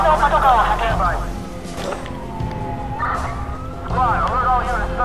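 A police siren from the video game Watch Dogs wails in rising and falling bursts, fading out in the middle and returning, over a low background hum.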